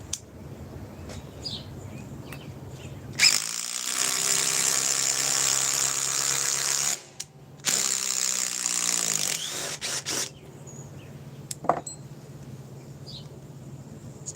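Cordless impact driver sinking power lag screws at its limit, a harsh, loud, buzzing hammering burst of about three seconds, then a brief pause and a second long burst, against quiet background hum.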